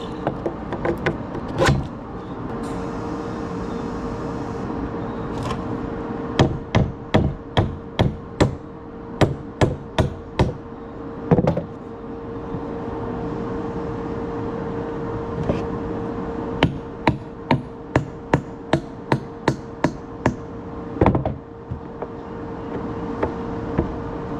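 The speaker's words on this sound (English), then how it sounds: "now we're going to sink the rest of the bolts" Repeated sharp metallic hammer blows sinking bolts into a broken trailer, loud and close, struck in quick runs of several hits separated by pauses, over a low background hum.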